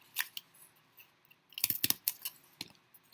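Scissors snipping a slit in thin cardboard, a few faint, close crunching cuts, sparse at first and then a quick cluster of sharper snips near the end, with no talking.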